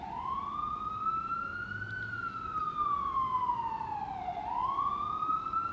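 A rising and falling emergency vehicle siren wails steadily on a street, its pitch sweeping up, easing down and climbing again, loud and fairly close over low traffic rumble, with no voices.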